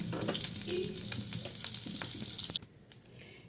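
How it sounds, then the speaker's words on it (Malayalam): Butter melts in a hot pan over a gas flame for paneer butter masala, crackling and sizzling close up with small spits and pops, then cutting off abruptly near the end with a final faint tap. "ഗ്യാസ് വെച്ചിട്ടത് ആ പാൻ തന്നെ വെച്ച് കൊടുത്തിട്ടുണ്ട് കേട്ടോ അതിലേക്ക് ബട്ടർ ഇട്ട് കൊടുക്കുകയാണ്"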